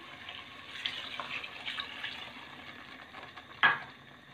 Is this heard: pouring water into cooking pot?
yes